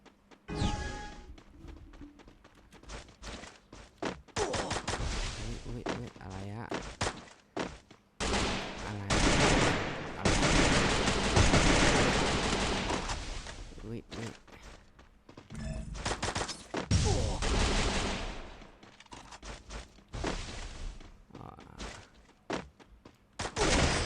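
Gunfire from the Free Fire video game, dense bursts of rapid automatic shots with short pauses between volleys, loud and close throughout, mixed with thuds and impacts.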